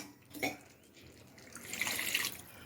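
Water is poured into goat head curry for pressure cooking, a short splash early on followed by a longer, louder pour that ends the clip.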